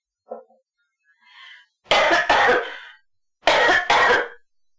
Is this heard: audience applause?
no